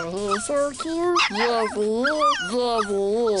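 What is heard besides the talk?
dog whimpering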